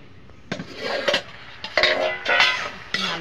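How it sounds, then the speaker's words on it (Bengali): Khichuri stirred in a metal cooking pot, a series of close clanks and scrapes of a spoon against the pot in irregular bursts, several distinct knocks over a few seconds. "মিচুড়িটা আমি একটু নাড়িয়ে দেব"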